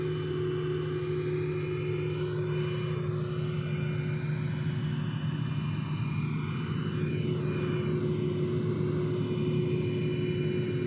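A-10 jet engines taxiing in the SimplePlanes 2 video game, a steady, continuous drone with a high whine that stays even throughout and is heard alone without any talk.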